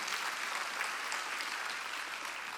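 Congregation clapping together during a Korean church Sunday worship service, a steady even wash of many hands, moderately distant, with no speech over it.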